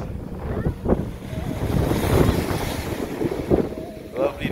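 Ocean waves wash and rush at a windy beach in Dominica, with wind buffeting the microphone and brief voices in the background.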